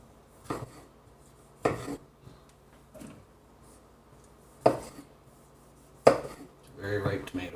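Knife chopping vegetables into chunks on a cutting board while making guacamole, a few separate sharp knocks spaced irregularly, close and fairly loud against a quiet kitchen background.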